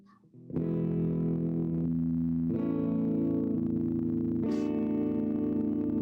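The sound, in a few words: electric guitar clean tone through amp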